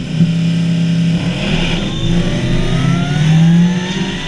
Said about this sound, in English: it makes this gnarly, raw sound of the whine, the sucking, and just you can hear the spooling of the supercharger